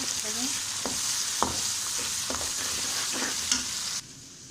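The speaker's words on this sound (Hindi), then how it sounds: "अभी अदरक लहसुन का और हरी मिर्च का पेस्ट डालेंगे। इसको भी फ्राई कर लेंगे।" Ginger, garlic and green chili paste frying with onions in a pan, giving a continuous close sizzle broken by several stirring scrapes and clinks, which eases off near the end.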